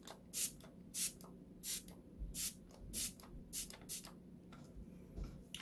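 MAC setting spray is misted onto a face in a series of short, soft hissing pumps, roughly a dozen quick bursts in an uneven rhythm, close by and fairly quiet with no talking.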